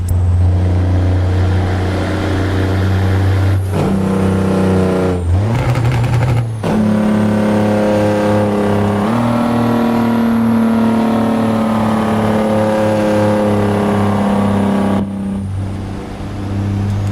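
DD60 diesel engine sound mod on a truck in American Truck Simulator, a loud steady engine drone heard from outside with shifting pitch as it revs and changes gears, running continuously with no talk.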